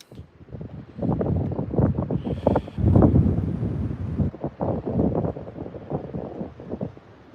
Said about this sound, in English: the wind has found me again